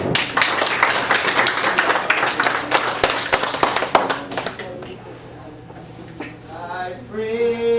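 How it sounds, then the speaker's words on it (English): An audience claps in a dense burst of quick hand claps that thins out over a few seconds, followed by a woman beginning to sing with voices rising over faint lingering claps. "Let's give her a big hand clap"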